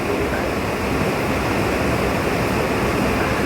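Steady rain pours down in a dense, even hiss that stays loud and unbroken from start to finish, with no voices over it.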